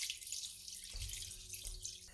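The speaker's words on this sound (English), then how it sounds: "I'll just start pouring in water, just enough to completely cover that chicken" Water pours steadily into a soup pot holding chicken and bay leaves, making a continuous hissing splash with a couple of brief surges, close by and without talk.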